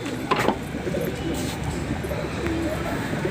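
A household female pigeon cooing softly, its low throaty coos faint against steady outdoor background noise.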